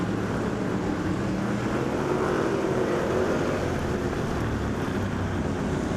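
Outlaw figure 8 race cars at Evergreen Speedway make a continuous, dense roar of engines at a steady loud level, with no talk.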